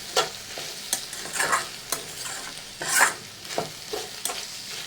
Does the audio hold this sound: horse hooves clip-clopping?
no